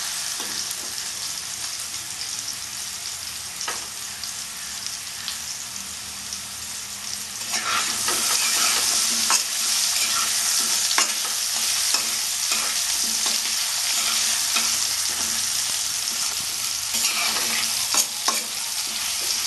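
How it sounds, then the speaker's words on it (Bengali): Potatoes fry in hot oil for a Bengali cabbage and prawn dish, a continuous sizzle that swells louder partway through as they are stirred, with scraping and tapping. "এক মিনিট মতো ভাজবো, একটু লাল হওয়ার মতো ভাজবো আর কি, যতক্ষণ না লাল হচ্ছে আলুগুলো ভাজতে পারবো।"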